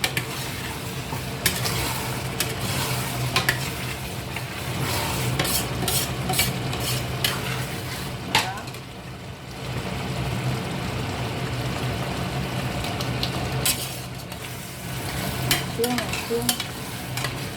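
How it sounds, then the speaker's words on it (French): Bolognese sauce with tomatoes simmering in a pan on a lowered heat gives a steady, close bubbling sizzle with occasional soft stirring scrapes, heard alone throughout. "On va laisser mijoter encore un petit peu en attendant nos pâtes."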